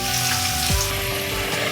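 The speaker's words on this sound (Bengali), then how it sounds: "লাল লাল করে আমি আলুটা ভেজে নিয়েছি" Potato pieces frying in hot oil in a kadai, a steady close sizzle with a faint bubbling hiss throughout.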